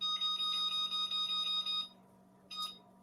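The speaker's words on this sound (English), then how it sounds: "And now I'll set my timer." A kitchen timer in a home kitchen is set for baking, giving a rapid, close electronic beeping for nearly two seconds, then a short final beep after a pause.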